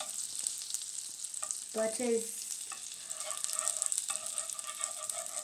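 Butter sizzles steadily in a frying pan while it is stirred and spread around before pasta goes in, a soft, close crackle with brief scraping strokes and no talking.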